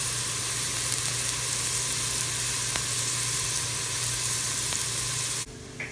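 Onions cook in a pot for lentil soup, giving a steady, even sizzle and frying hiss that runs close and continuous before cutting off abruptly near the end.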